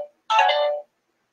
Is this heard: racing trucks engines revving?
no